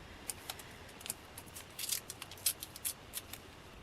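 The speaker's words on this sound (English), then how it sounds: "let's do one more piece of washi tape ripped long way for these two to" Washi tape ripped lengthwise by hand during craft planner decorating, a run of short, crisp tearing and crackling bursts at close range, with no talking.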